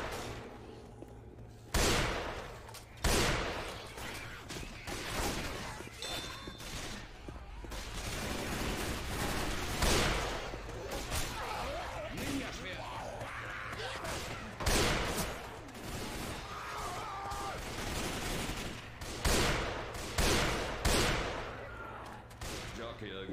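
Teammates fire weapons during a Left 4 Dead 2 zombie campaign: repeated loud gunshots and scattered bursts over a long stretch of game noise, with voices talking in between.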